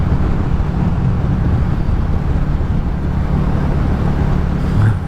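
Steady wind roar buffets the rider on a Royal Enfield Classic 350 motorcycle cruising through open country in the evening, a loud constant low rush with the engine blended underneath and no talking.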